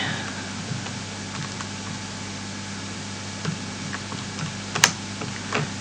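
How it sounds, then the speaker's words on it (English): Light, sparse key presses on a calculator tap out a few scattered clicks over a quiet room hum. "And I can just type that into my calculator."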